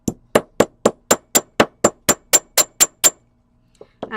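A hammer strikes a metal pendant for a beaded necklace about a dozen times in a steady, even rhythm, giving sharp, close, ringing taps. A short pause follows, then a faint rustle.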